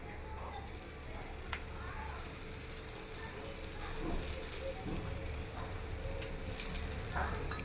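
Oil sizzles steadily on a hot griddle as a methi paratha fries, a continuous crackling hiss with faint scraping and a few soft clicks, recorded close and fairly quiet throughout.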